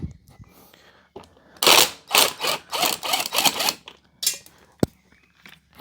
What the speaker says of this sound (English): that was the sound of the bolt nut dropping on the floor